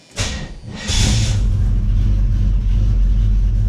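Small Block Chevy 327 V8 cranking over briefly with the starter, then catching and settling into a loud, steady, deep rumbling idle close by.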